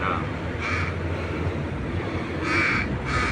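A crow in Metro Manila that fell and is being cared for gives several hoarse caws close by over a steady background rumble, with its calls arriving in separate bursts.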